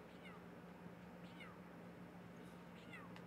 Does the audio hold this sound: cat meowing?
yes